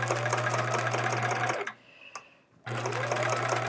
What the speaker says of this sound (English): So I'm doing this free motion quilting here just for fun, to give it a try.